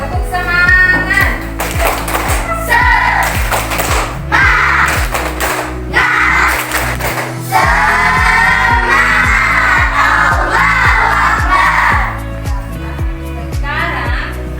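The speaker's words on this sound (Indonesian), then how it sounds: "Tepuk semangat." Students in a classroom perform a rhythmic spirit clap, loud patterned claps repeating steadily for several seconds while voices chant along over the beat.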